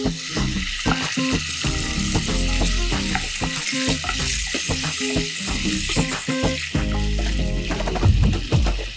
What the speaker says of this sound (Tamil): இதை வந்து ஒரு 3லேருந்து 4 நிமிஷம் அப்படியே வதக்கி எடுத்துக்கலாம்